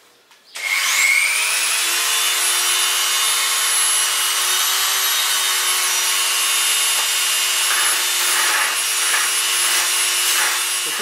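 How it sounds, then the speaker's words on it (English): A small belt sander spins up and then runs at a constant, high whine as it smooths a wooden model of a pike, with faint scraping and a few light knocks near the end. "we're going to use a little belt sander now"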